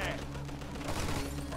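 Machine gun fire in Mafia 2 rattles as a rapid, continuous burst of shots in a busy combat scene, with a voice talking over the dense gunfire.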